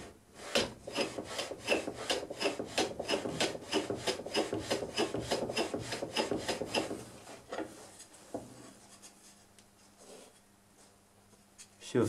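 Hand plane working the edge of a board against a shooting board, a run of about fifteen steady rasping strokes back and forth, close and fairly loud, tapering into quieter scraping and handling.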